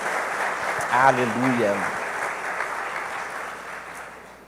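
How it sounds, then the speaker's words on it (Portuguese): A church congregation gives sustained applause for Jesus, a dense wash of many hands clapping that slowly fades, while a voice calls out briefly over it. "Vamos dar uma salva de palmas a Jesus, queridos."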